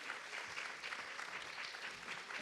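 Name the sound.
audience applause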